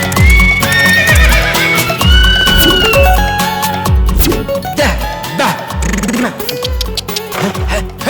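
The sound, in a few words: horse neighing in a film scene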